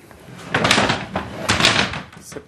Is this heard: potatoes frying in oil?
no